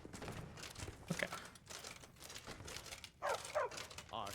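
A dog companion barks in the video game Skyrim, in the city of Markarth. Several short barks mix with someone talking over them throughout.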